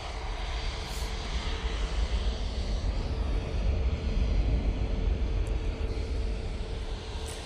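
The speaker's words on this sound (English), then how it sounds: "turning on to 2-3 left, we have the Jet2 A321neo going to Antalya" A Jet2 Airbus A321neo rumbles steadily on the runway at Manchester Airport, a continuous low engine roar heard from a distance, with no talking.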